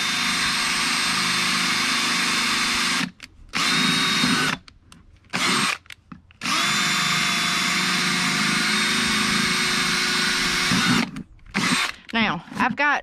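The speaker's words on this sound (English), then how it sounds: "I'm just putting a little pressure down when I drill in." A power drill bores holes into a plastic mop bucket, a loud steady motor whine running in long stretches, cut off by a few short stops and then quick restarts near the end.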